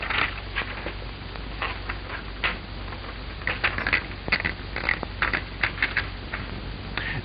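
An old typewriter in an office typing out a dictated letter, with irregular bursts of sharp mechanical key strikes and clacks rattling along at a moderate distance, no talking over it.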